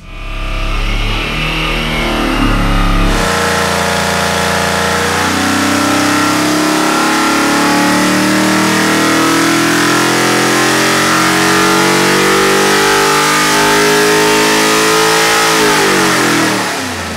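A 427 cubic inch LSX engine roars on a dyno, idling briefly before a loud, sustained rev that climbs steadily in pitch toward high rpm and then drops off, with no voices over it.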